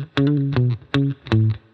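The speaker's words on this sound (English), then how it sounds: "With my Gibson guitar here, I'd like to use the middle position, both pickups, so I can achieve a fat sound" A Gibson electric guitar on the middle pickup position, both pickups on, plays a reggae lead line with a fat tone: four plucked, sustained single notes in an even, unhurried rhythm, close and clean, with no voice.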